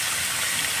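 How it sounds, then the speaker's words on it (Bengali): Spice paste tipped into potatoes frying for aloo dum gives a steady, loud sizzle and hiss that fills the whole short moment without a break. "এই পেস্টটা আমি এবারে আলুতে আমি এই ঢেলে দিলাম"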